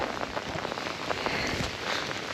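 Heavy rain pours down steadily during a fishing trip, a dense, continuous hiss of drops drumming on surfaces close by, with no talking.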